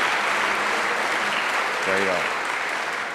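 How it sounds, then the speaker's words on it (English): Dense, steady applause from a concert audience at an Arbutus Singers choir concert, honouring Dr. Alec Walton, filling the whole stretch; someone speaks briefly over it partway through. "So if you could give Dr. Alec Walton a big round of applause wherever you are"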